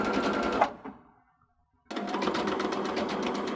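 Steady rapid whirring stitches of a sewing machine, stopping briefly for a second of near silence, then starting up again at full speed.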